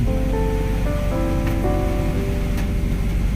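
A downpour of strong, gusting rain makes a loud, unbroken wash of noise, with a low rumbling undertone and faint tonal hums weaving through.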